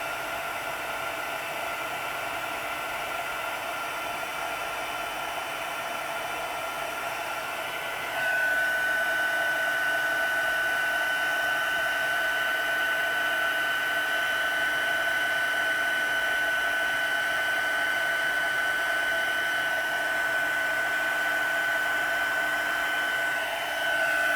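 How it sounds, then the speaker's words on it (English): A heat gun blows hot air onto a craft project: continuous close whooshing with a steady whine that rises in pitch partway through and holds at full power to the end. "that's the heat gun done with"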